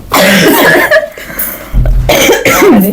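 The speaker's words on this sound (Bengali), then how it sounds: "কাশি হয়ে গেল তোমার বলতে বলতে" Several harsh coughs from a person during a chatty interview, loud and close, coming in bursts with short breaths between them.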